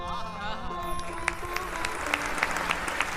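An audience claps at a Ram Katha discourse given by a speaker, with a voice at the start giving way to applause that builds into moderately loud, crisp clapping.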